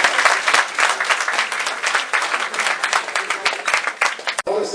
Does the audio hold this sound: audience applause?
yes